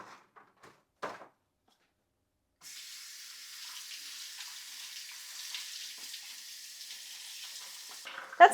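Water runs steadily from a kitchen tap over freshly harvested garden green beans in a colander, a continuous hissing spray that starts after a few quiet clicks and carries on for several seconds, close and with no talk.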